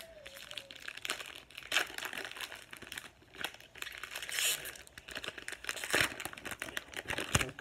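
Foil wrapper of a Pokémon trading card pack being torn and crinkled open, nearby and fairly quiet, with irregular bursts of crackling and rustling throughout.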